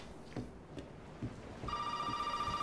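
A phone rings in Resident Evil 7, a steady electronic ring that starts partway through after a few thumps and footsteps in a quiet room.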